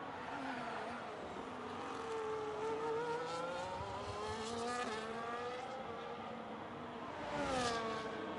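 F2 race cars in the game F1 25 at the Las Vegas Grand Prix, several engines whining with rising and falling pitch as cars pass, steady and moderately loud with a swelling pass near the end.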